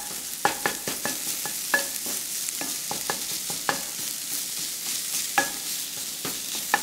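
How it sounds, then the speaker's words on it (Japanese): Pork frying in its own rendered fat on a home stovetop, crisping for mapo tofu, gives a steady sizzle broken by frequent sharp clinks and scrapes of a utensil stirring the meat, close and moderately loud with no talk. "カリッカリになるまで焼き上げます"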